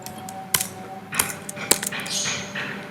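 Three separate, sharp keystrokes on a computer keyboard, spaced about half a second apart, fairly close and clear against a quiet room with no talking.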